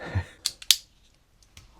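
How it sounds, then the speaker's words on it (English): Locking scissors on a compact multitool pocket knife snap and click as they are handled, giving a few sharp, close metallic clicks in near silence. "Or the scissors, because they're locking"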